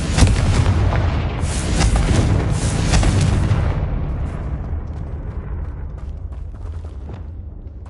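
A Confringo blasting spell detonates in Hogwarts Legacy with a loud, heavy boom that rolls on in a rumbling roar and slowly fades over several seconds, with no voices.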